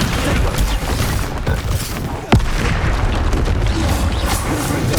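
Spell explosions from Confringo and Bombardo blasts in the video game Hogwarts Legacy give a loud, dense rumble of booms, with one sharp crack standing out midway through the steady roar.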